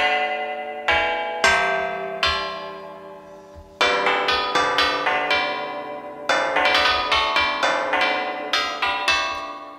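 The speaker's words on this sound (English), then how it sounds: "If I just go for a gamelan gong" A gamelan gong played from the UVI World Suite 2 sample library rings out in a series of loud, bright metallic strikes, each decaying slowly, with clusters of quicker hits overlapping later on.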